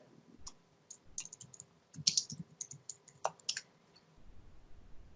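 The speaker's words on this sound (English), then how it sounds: "Can you type the last name?" Keys clatter on a computer keyboard in short, irregular bursts of close, crisp clicks, with pauses between them, in an otherwise quiet room.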